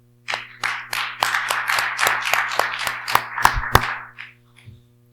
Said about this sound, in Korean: 우리 한번 환영의 박수.